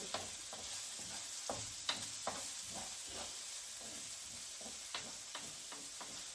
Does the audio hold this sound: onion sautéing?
yes